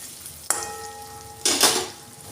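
Paneer being stirred and gently fried in a pan over a low gas flame: a soft steady sizzle broken by two sharp clinks of a spoon against the pan, the second followed by a brief louder burst of frying.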